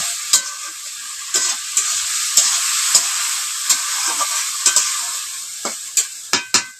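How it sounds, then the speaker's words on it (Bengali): Curry with green chillies sizzles in a pan, with a constant frying hiss broken by repeated sharp scraping clacks of stirring, close and fairly loud, with no talking. "আমি কাঁচা লঙ্কা দিয়ে রান্নাটা করবো"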